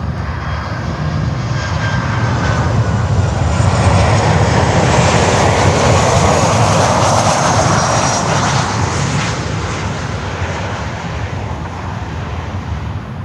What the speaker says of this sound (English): we have China Airlines Cargo coming in with a 777 from Los Angeles